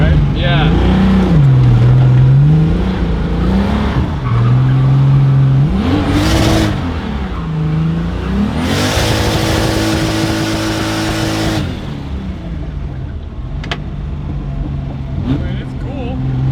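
A turbocharged BMW E30 with an M20 stroker engine accelerates hard through several gears, its engine note rising and dropping with each shift, loud and close from inside the car, while occupants talk over it.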